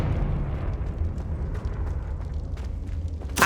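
Confringo fire spell in Hogwarts Legacy, a continuous rumbling fiery burst with crackling debris, ending in a sharp louder blast at the very end.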